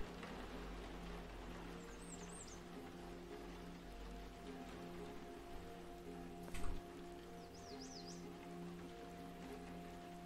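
Steady rain falls in the survival game Cataclysm DDA, a constant soft hiss of drops running the whole time under a low background hum, with one brief louder knock partway through; no one speaks.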